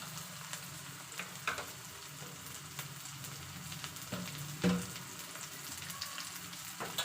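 Tomato pieces fry in hot oil with onions for a North Karnataka-style okra palya, giving a steady, soft sizzle with faint crackles and a few small stirring knocks throughout.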